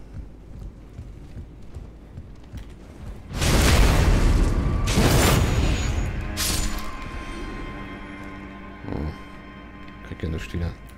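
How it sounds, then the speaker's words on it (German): An explosion in the video game Elden Ring bursts out as a loud, roaring blast with a rumbling tail, followed by a second burst and scattered smaller impacts, while someone talks over the game. "Explosion."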